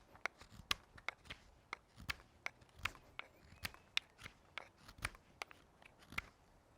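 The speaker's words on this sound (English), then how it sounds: "I'm actually using this hand quite a lot to pull the spoon through the blade" A knife carving a wooden spoon, with crisp, quick cutting flicks repeating in an uneven rhythm, close and fairly quiet, with no talk over them.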